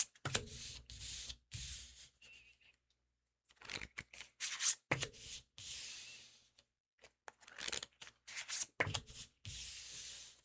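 Tarot cards drawn from a deck, repeated papery shuffling and sliding bursts in clusters separated by short pauses, close and fairly clear, no talk.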